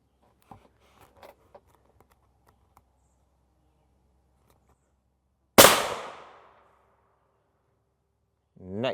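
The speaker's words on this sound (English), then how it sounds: "We'll shoot the standard pressure first, right smack dab in the center of the plate." A standard pressure test round fired into the center of a body armor plate: one sharp, loud gunshot crack with a short decaying tail, preceded by faint scattered clicks and followed by a low voiced sound at the end.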